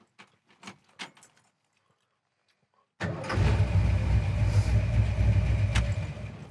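Ignition keys jingle and clink in a few short bursts inside a 1966 Mustang K-Code, then the engine abruptly fires and settles into a loud, steady rumbling idle.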